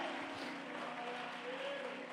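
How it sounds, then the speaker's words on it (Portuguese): Continuous applause from a large church congregation, steady and somewhat distant, with faint voices mixed in. "O povo, pode aplaudir o Senhor."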